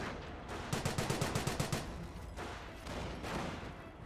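A Bren carrier's machine gun in Company of Heroes rattles off a fast, sharp burst of about a dozen evenly spaced shots, followed by broader, noisier bursts of distant gunfire.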